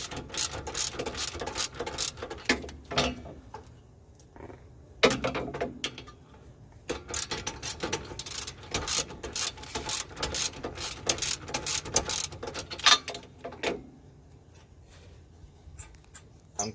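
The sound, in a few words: ratchet loosening a rusted bolt on a car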